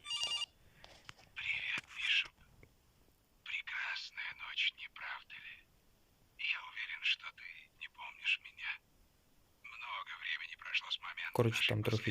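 A telephone rings in the horror video game Case: Animatronics, giving four evenly spaced bursts of bright electronic ringing over a quiet background.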